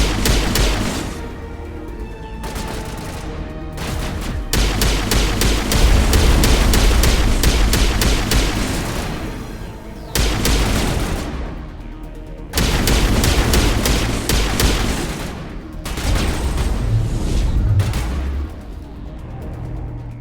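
Rapid pistol gunfire in the Mass Effect video game, loud repeated shots in dense volleys that pause briefly around the tenth and twelfth seconds before resuming, with booming impacts and no talk.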